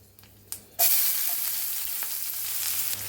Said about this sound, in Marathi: कांदा चांगला थोडा लालसर होईपर्यंत आपण याला भाजून घेऊया